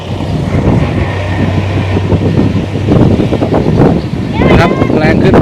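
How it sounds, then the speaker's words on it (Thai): Strong wind buffets the microphone in a steady, rumbling roar while someone talks over it, out in rice fields as a heavy rainstorm approaches. "ลมเริ่มมาแล้วครับ"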